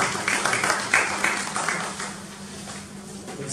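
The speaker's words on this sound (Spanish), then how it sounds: "Un fuerte aplauso, pues, para Abderramán." An audience at a poetry lecture gives sustained applause, a dense wash of clapping that peaks early and slowly thins over several seconds, with some voices underneath.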